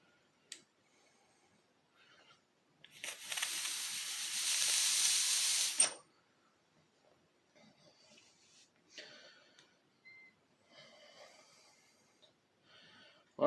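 Air blown through a small engine carburetor from a tiller gives a steady, loud hiss lasting about three seconds, preceded and followed by quiet handling noises and faint breathing.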